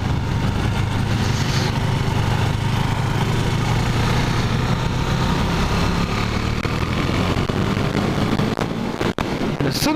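Husqvarna Svartpilen 401 single-cylinder motorcycle engine running steadily with a low, throbbing drone, heard up close and loud throughout, with a sharp transient near the end and no talking.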